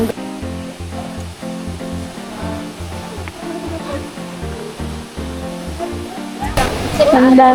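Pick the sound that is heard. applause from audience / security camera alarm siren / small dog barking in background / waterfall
waterfall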